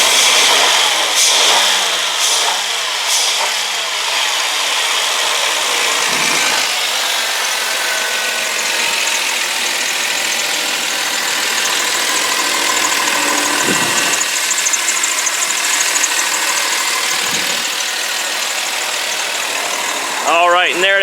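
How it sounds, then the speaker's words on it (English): A 2007 Chrysler Town & Country LWB Limited minivan engine, heard up close, revs up in a few short bursts and then settles into a steady, loud idle hum that carries on for most of the stretch, with a brief voice near the end. "now for you is I'm just going to rev this up and be quiet."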